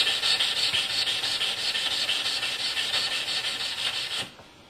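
A wooden peg is filed smooth with a hand file, its rough side taking off file marks, giving a close, steady rasping hiss of rapid strokes that stops abruptly near the end.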